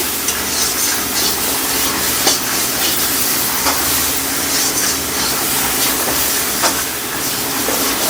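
Rice and hog plums frying in a pan for a spicy-sour amra dish, a loud continuous sizzle and hiss with scattered scraping stirs.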